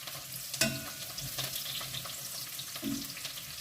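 Thinly cut young cabbage frying in a pan, a steady sizzle with occasional scraping stirs, close and continuous with no talking.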